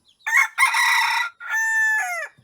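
A wild labuyo junglefowl rooster of mixed coloring crows twice, a short opening call followed by a long, ringing crow, close and loud in an otherwise quiet outdoor setting.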